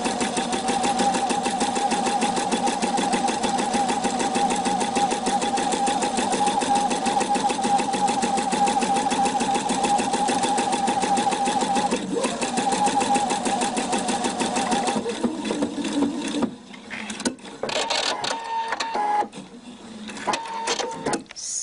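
A sewing machine stitches a seam on a knitted bolero, running steadily and loudly for about fifteen seconds before slowing into short stop-start bursts, with no talking.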